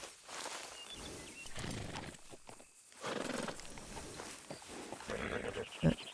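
Horse sounds from Red Dead Redemption 2 as the horse Foulmouth stands near, with soft snorts, shuffling hooves and a short sharp whinny near the end, all fairly quiet.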